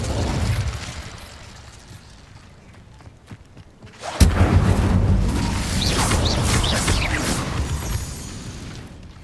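A burst of fire from the Incendio spell in the video game Hogwarts Legacy erupts loudly partway through, a sudden crackling roar that sustains over a rumbling, busy game soundscape after quieter ambient sounds.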